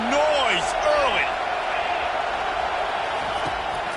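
A college football stadium crowd keeps up a steady roar of noise. A few whoops and a commentator's voice rise over it at the start, and the broad crowd din carries on underneath.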